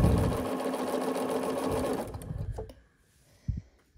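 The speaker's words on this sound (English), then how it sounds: "I'm just going to keep sewing all of these together, backstitching at the beginning and the end of all of them." A sewing machine stitches quilt petals together with backstitching, whirring steadily and loudly up close for about two and a half seconds, then stopping, followed by a soft knock.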